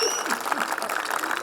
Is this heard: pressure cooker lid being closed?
no